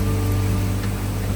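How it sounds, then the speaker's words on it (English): Steady, dense hiss of heavy storm rain falling without pause in Hocking Hills, Ohio, broadband and continuous with a low hum underneath; no voices. "rain pouring, and it was one of the strongest storms to sweep through Hocking Hills"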